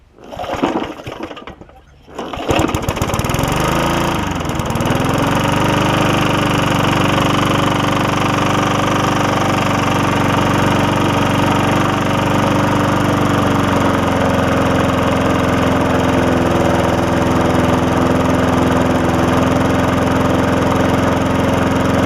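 A worn Murray 3.5 classic push mower engine sputters briefly on the pull start, then catches and settles into a loud, steady running drone close by.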